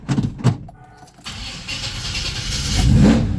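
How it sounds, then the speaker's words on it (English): A 1970 Chevelle sits after two weeks unused on a cold day; a few soft knocks come before the engine cranks and catches, settling into a loud, close, steady rumble that swells toward the end. "So this is literally going to be a cold start."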